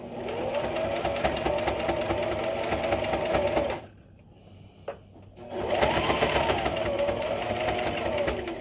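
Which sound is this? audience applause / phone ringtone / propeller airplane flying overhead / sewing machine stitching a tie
sewing machine stitching a tie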